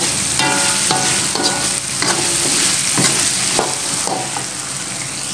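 Spice paste for beef rawon fries in hot oil, sizzling steadily and loudly while a utensil scrapes and stirs through it in repeated strokes, with no talking.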